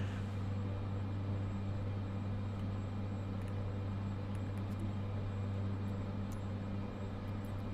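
A steady, droning aircraft engine hum sustains through a climb in Microsoft Flight Simulator 2024 on PS5 Pro, a constant low tone with faint high clicks, moderately quiet and unbroken.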